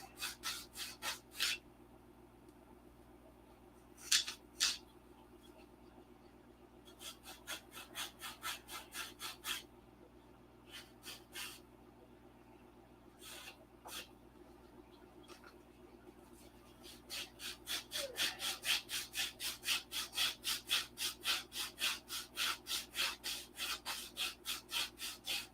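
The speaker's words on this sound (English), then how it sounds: "because this is plastic, you can hear it when the 80 grit touches it, it'll squeal" Coarse 80 grit sandpaper rubs back and forth across a stacked plastic model-airplane wing rib, giving rhythmic scraping strokes in short bursts that turn into a faster, steady run near the end, close up and with no talk.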